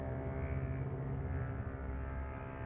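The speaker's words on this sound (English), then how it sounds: "there's an airplane warming up its engine at the runway over there" A distant airplane warming up its engine on a runway drones steadily with a low, continuous hum, unchanging and somewhat muffled.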